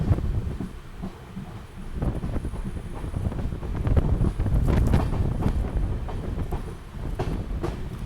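A WDG 6G diesel locomotive hauls a train on the Konkan Kanya Express route, giving a steady, loud rumble and rattle with rhythmic clunks and some wind buffeting the microphone, with no talk.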